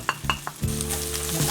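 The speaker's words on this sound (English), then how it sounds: "Right after I am adding tendli here, Ivy Gourd, and also adding dry spices here." Ivy gourd (tendli) with dry spices hitting a hot pan: a few quick utensil taps, then a steady sizzle with a low humming tone beneath, short and close.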